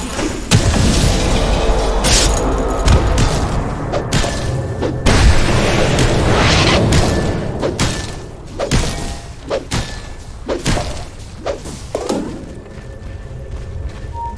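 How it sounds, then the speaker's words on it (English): In a Dota 2 match, a tower comes under attack amid repeated heavy booms and thuds, with dense clashing game effects that ease into scattered impacts and chimes toward the end. "Dire's bottom tower is under attack."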